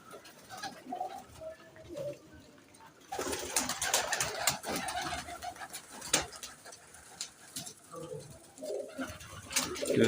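Teddy pigeons perched on the mesh of a loft coo repeatedly in soft, overlapping calls, with occasional fluttering and background rustle throughout.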